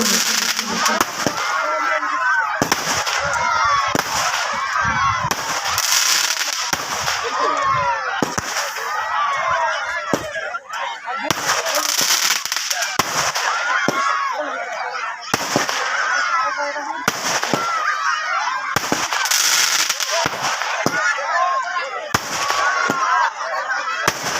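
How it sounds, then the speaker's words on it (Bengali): Fireworks set off on a club's field at a celebration, loud bangs and crackling bursts repeating every few seconds amid a noisy crowd, with voices talking throughout. "দেখতে পাচ্ছেন সেই সুনামধন্য আতশবাজি মিলন সংঘের মাঠে।"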